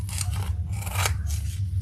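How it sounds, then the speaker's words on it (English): Scissors snipping through fabric while a garment is being sewn, three or four quick, close, crisp cuts in rapid succession. "I'm going to cut a little bit off the side."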